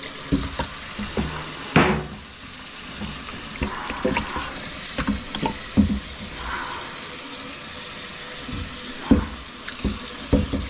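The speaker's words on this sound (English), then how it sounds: "I'm gonna rinse this down before it dries too much." Water runs from a hose or tap over a rally steering wheel ring being rinsed before dye dries, a steady splashing rush broken by louder bursts and clatters, close and with no talk.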